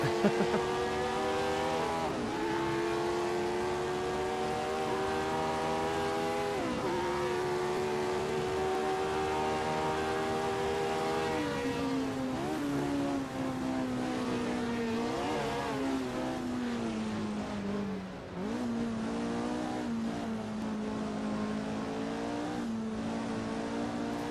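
Loud 1967 Formula 1 race cars scream away from the start, engines climbing in pitch through repeated gear changes. The sustained roar continues with no pause and no talking.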